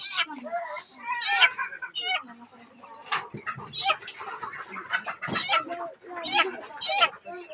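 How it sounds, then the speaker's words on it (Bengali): A hen clucks and cackles repeatedly at close range in a village yard, with people talking over and between the calls. "আমার মুরগিটি উড়া দেন"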